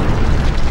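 A bomb detonates in Keep Talking and Nobody Explodes, a loud, brief, deep boom with a rumbling burst filling the whole moment.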